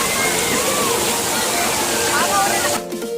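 Steady, full roar of Bolinao Falls pouring into a cold pool, close and loud throughout, with rushing and sloshing water, broken by a brief faint voice just before it thins out at the end.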